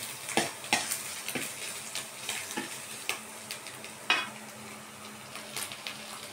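Shrimp goes into a pan already sizzling with sautéed onion and garlic, a constant frying hiss broken by regular scraping and clinking strokes of a stirring spatula, close and moderately loud with no voices.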